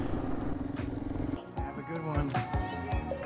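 Adventure motorcycle engine idling and blipping nearby, with uneven throttle pulses and short revs under someone talking.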